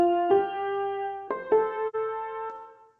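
A soloed piano intro from a beat sounds alone, a handful of clear, sustained notes struck in a slow, sparse pattern and left to decay, close and moderately loud.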